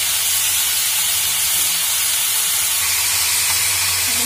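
Potato pieces frying in oil in a pan make a steady, loud hiss and sizzle that holds evenly throughout, with no talking over it.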